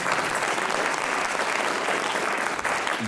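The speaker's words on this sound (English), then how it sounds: "Let's give them a round of applause first." Sustained audience applause at a school writers expo, dense and steady clapping from a full room filling the whole stretch at constant loudness, with no voices standing out.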